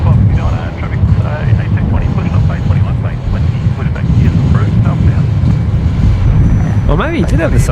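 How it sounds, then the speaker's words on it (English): Dash 8 turboprop airliner landing on runway 19 left at Brisbane Airport, a steady loud engine roar under wind noise, with people talking over it. "next Dash 8 coming in now from Murrumbidgee here on runway 19 left"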